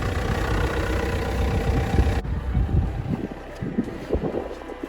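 A car engine idles steadily right after starting, with the daylight running lights and hazard lights on during pre-MOT roadworthiness checks; a continuous low rumble carries throughout, with the sound thinning a little partway through.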